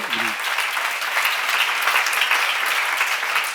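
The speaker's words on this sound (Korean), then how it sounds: "빨리 박수로 하세요" A congregation at a church seminar bursts into applause, a dense, even wash of clapping that fills the whole stretch at steady volume, with a brief spoken syllable at the very start.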